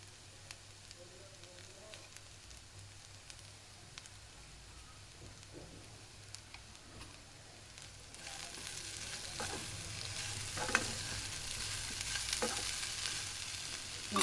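Aloo fry, potatoes frying in a pan, gives a faint sizzle that grows louder and crackles more in the second half, with occasional stirring clicks.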